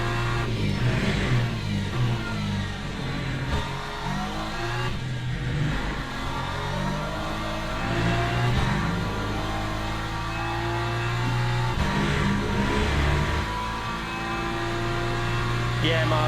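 A BMW race car engine revs and accelerates in Le Mans Ultimate, its mid-pitched roar rising and falling through gear changes while someone talks over it.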